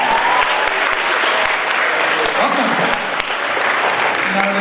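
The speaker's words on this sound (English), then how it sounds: "Our kindergartners a round of applause." Sustained, loud applause from a school assembly audience welcoming kindergartners at a Black History Month assembly at Buckley Country Day School, a dense, steady wash of clapping lasting throughout.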